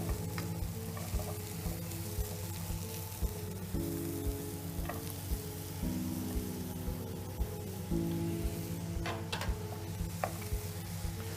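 Swede and carrots sizzle and fry in a hot pan while being stirred, a steady crackling sizzle with a constant low hum underneath and occasional scraping clicks of the spoon, close and moderately loud, with no talking.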